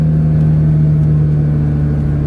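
A modified Scion FR-S accelerating on a road test, its engine giving a steady, loud, close droning rumble with a strong low tone that holds through the whole stretch, no talk over it.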